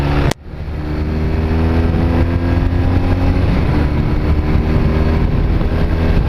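After a sharp click, a Honda CB250 Nighthawk motorcycle engine rises into a loud, steady throttle rev that holds close and even for several seconds.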